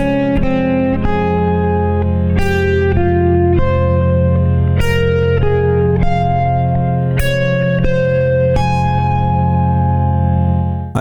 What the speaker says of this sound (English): Doing falling tone resolution and then a larger leap.